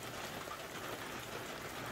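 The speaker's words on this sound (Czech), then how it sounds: "Dneska skoro celý den prší" Steady rain falls throughout near beehives during a honey harvest. It makes a dense, even hiss of drops with no voices.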